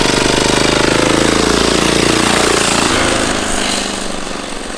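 A 400 cc turbo diesel racing go-kart drives close by with a loud, rapid, rattling engine drone that holds steady and then eases slightly toward the end.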